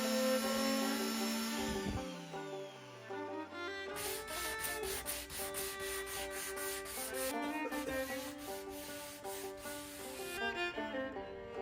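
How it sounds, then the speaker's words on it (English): A power sander whirs and rubs against a wooden frame, its motor winding down and starting again, with rhythmic scraping strokes throughout. "And now we're on to sanding, the worst part."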